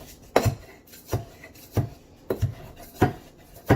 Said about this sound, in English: basically you're just grinding the mint and the sugar together